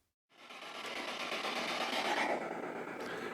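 A spirit box device's steady broadband white-noise hiss switches on abruptly after a brief silence and continues evenly at moderate volume.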